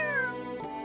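A single cat meows, a clear, drawn-out, slightly falling call heard up close and alone.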